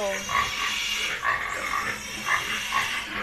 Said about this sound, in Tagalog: Dami nilang alagang baboy.